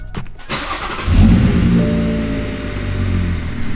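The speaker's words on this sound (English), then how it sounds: "Alright, let's start her up and see if she still sounds weak." A car engine with a new turbocharger cranks briefly, catches and settles into a loud, close idle that holds steady after start-up.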